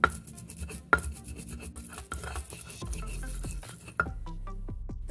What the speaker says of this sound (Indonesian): ulek semuanya sampai lembut